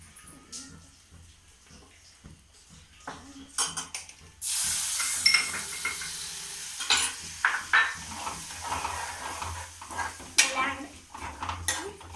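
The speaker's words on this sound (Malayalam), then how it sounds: "നന്നായിട്ട് ഇളക്കി കൊടുക്കാം." A spoon stirs passion fruit pickle in a pan with clattering, scraping strokes. The metal clinks come in an irregular rhythm over a faint sizzle, close by and with no talk.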